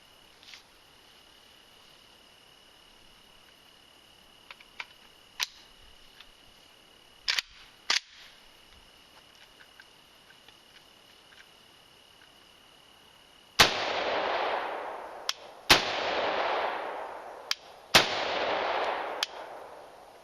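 Semi-automatic rifle fired outdoors, one shot per trigger squeeze, four sharp loud reports with ringing decay arriving at uneven intervals after a quiet stretch of insect chirping and faint clicks.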